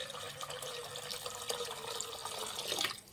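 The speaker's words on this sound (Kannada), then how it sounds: "ಮಿಕ್ಸಿ ಜಾರ್ಗೆ ಹಾಕ್ಕೊಳ್ಳಿ ನೀರು." Water is poured into a mixer jar for a mutton paya leg soup, a steady close splashing stream that runs for a few seconds before stopping abruptly.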